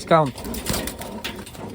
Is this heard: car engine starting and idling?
no